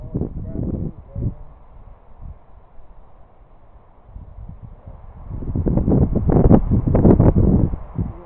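Outdoor wind buffets the microphone in uneven low rumbling gusts, quieter in the middle and surging strongly toward the end.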